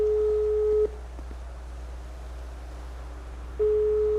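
A telephone call tone purrs while an outgoing call waits to connect, with a steady electronic beep that sounds for about a second, pauses in near silence for over two seconds, then starts again, clear and close.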